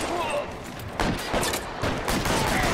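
Continuous heavy gunfire in the crime game L.A. Noire, a dense loud fusillade of overlapping shots with stronger bursts around each second and no clear break.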